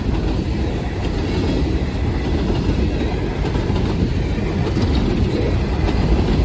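Freight train of hopper cars speeding along a siding track, a steady loud rumble of wheels and rolling cars with clickety-clack, close and continuous with no voices.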